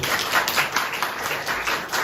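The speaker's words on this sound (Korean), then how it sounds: "박수로." Church congregation applauding during a Sunday worship service, a brief burst of many hands clapping in steady, moderately loud rhythmic waves.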